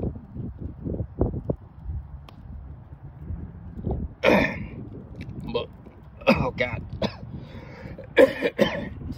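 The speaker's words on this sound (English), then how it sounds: "Got a bad cough, and I'm not going to sit here and cough and let y'all listen to it." A man with a bad cough at a campfire coughs repeatedly in harsh, separate bursts, loud and close, with quieter stretches of speech and breathing between the fits.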